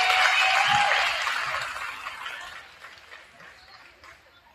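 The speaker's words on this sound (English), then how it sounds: "Give them another round of applause." Audience applause at a high school basketball banquet for the players, a full burst of clapping that swells briefly and then fades away over several seconds, with faint voices underneath.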